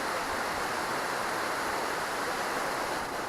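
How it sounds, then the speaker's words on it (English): Bunch Falls, a waterfall roughly 60 feet high in the Quinault rain forest on Washington's Olympic Peninsula, gives a steady, unbroken broadband roar of rushing water, heard alone without talk. "The waterfall may be 60 feet high, and it's named after a homesteading family, the Bunch family, from this area."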